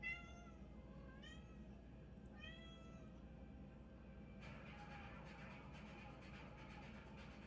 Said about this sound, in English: y'all hear my kitty in the background.